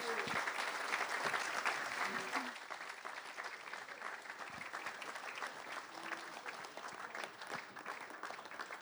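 An audience claps for racehorse trainers coming to the stage at a racing festival preview event, loud sustained applause that slowly thins and softens, with scattered voices under it.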